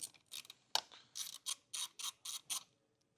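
A ratchet clicks in a series of short, crisp bursts while loosening a 10mm nut on a battery post of a 2022 Ford Bronco, heard close and alone with quiet gaps between strokes.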